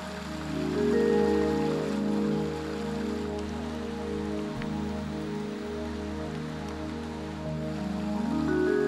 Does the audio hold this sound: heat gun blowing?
no